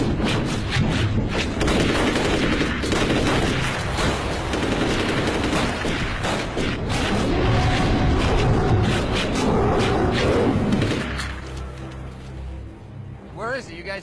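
A film's action scene of sustained rapid gunfire, a loud continuous fusillade of shots and booms lasting about eleven seconds before cutting to quieter background, with some voices mixed in.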